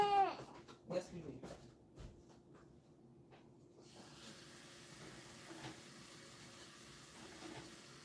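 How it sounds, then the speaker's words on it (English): A tap runs steadily while hands are washed, a faint continuous hiss of water starting after some quiet background noise and lasting to the end. "I'm just gonna wash my hands."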